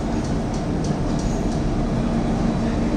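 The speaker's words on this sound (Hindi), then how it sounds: "ये दोस्तों वलसाड़ जाने वाली बरोड़ा वलसाड़ ट्रेन आई है" A Baroda–Valsad passenger train pulls into an Indian railway station with a loud, continuous rumble and hiss of wheels and carriages that holds steady throughout.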